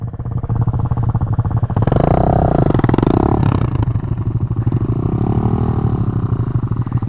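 A 2020 Honda Grom motorcycle's engine revs hard as the clutch is dumped to spin it around, giving a close, buzzing, pulsing roar that swells and dips with a brief scraping clatter midway.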